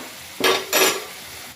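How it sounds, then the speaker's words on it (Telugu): Fresh coriander frying in oil while being stirred, with two short bursts of sizzle and scraping over a low, steady background. "కొత్తిమీర మంచిగా కొంచెం నూనెలో పచ్చివాసన పోయే వరకు వేసుకున్నాము"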